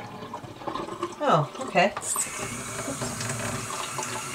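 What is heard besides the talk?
washing chicken thighs in running water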